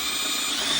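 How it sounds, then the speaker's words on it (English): A power drill bores steadily into an Audi TT race car's engine head, the metal heated and lubricated with automatic transmission fluid, giving a continuous high whine close by with no break. "Brandon suggested to me that we drill this thing out, and it's drilling really nicely because Brandon got it really hot"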